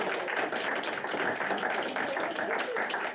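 Steady clapping fills a school board meeting as the room applauds a student, a dense, moderately loud patter of many hands lasting a few seconds without speech.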